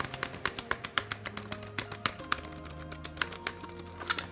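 Soft, quick clicks of Logitech K380 wireless keyboard keys being typed, an irregular patter of light taps close by, with no talking.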